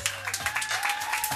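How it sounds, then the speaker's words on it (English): Audience at a domestic violence awareness walk clapping for the next speaker, a short burst of dense, lively applause with some faint tonal ringing underneath. "Give her a clap."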